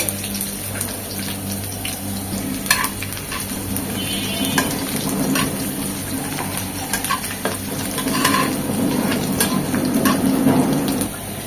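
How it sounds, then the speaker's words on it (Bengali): Chopped garlic fries in a pan with a steady, close sizzle and occasional stirring scrapes, continuous for several seconds with no talking. "রসুন কুচিটা একদম লাল লাল হবে ভাজা ভাজা হবে"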